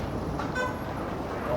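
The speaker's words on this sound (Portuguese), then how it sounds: "Tá tendo um trânsito aqui." Street traffic in Ouro Preto, Minas Gerais: a continuous rumble of vehicles nearby, with a short horn toot near the start.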